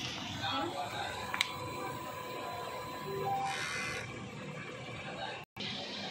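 A DTF printer runs a print head clean, giving a soft steady mechanical whir with a brief click, a short pump-like hiss midway and a sudden stop near the end.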